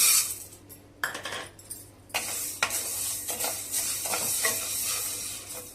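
Green gram being dry roasted over gentle heat and stirred in a pan, giving close, irregular scraping and rattling strokes with light grainy crackle, no talking.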